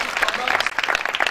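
A congregation at a spiritual retreat claps and cheers for Jesus Christ, a short burst of dense, lively applause with voices mixed in.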